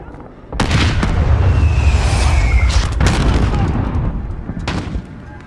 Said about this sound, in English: You've got mortars incoming.